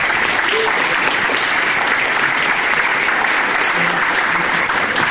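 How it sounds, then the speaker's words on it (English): Dense, loud clapping from an audience at an employer recognition event in Santa Cruz, applauding the organizing committee, with steady many-handed applause sustained through the whole stretch. "Give them a round of applause."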